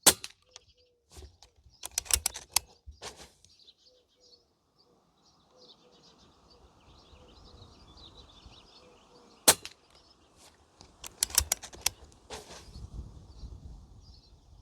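Umarex Notos air rifle fired with a 3D printed moderator and JSB pellets at a 25-yard target outdoors: a few quiet, sharp cracks, each followed by a short clatter of impact or cycling, set apart by quiet gaps with faint birds and insects behind.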